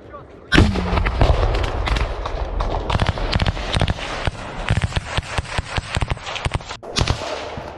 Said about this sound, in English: A Russian soldier hit the position where Ukrainian soldiers were located with a grenade launcher at close range.